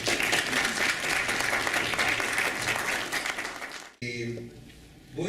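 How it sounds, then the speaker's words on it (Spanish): Strong, dense applause from the audience at a national civil law conference in a lecture hall, steady for about four seconds before it cuts off abruptly. A voice follows it. "Fuertes aplausos para él"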